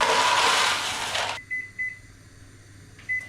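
A microwave oven gives a few short, faint electronic beeps in a kitchen after a broad whooshing noise cuts off, the tones spaced irregularly and fairly quiet against a low hum.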